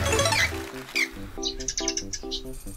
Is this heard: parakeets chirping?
yes